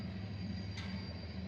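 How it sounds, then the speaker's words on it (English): A coal train passes at a distance, giving a faint, steady rolling rumble with a thin wheel squeal and a brief hiss partway through. No one talks. "and a coal train coming through."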